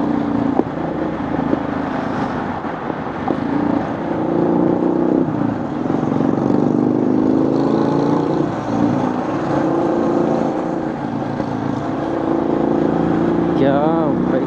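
A Harley-Davidson motorcycle's engine and exhaust rumble steadily on an open road, a low throbbing drone that swells slightly at times, with traffic nearby and voices talking over it.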